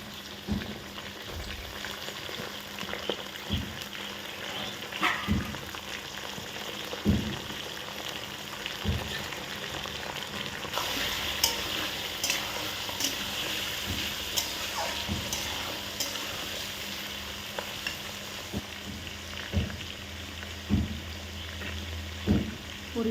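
Chicken pieces hit browning onions in a hot pan of oil, raising a steady close-up sizzle and crackle with occasional clinks and stirring scrapes, no voices.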